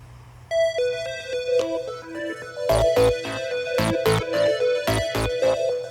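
A melodic electronic ringtone plays, its chiming notes soon joined by punchy rhythmic beats, loud and close.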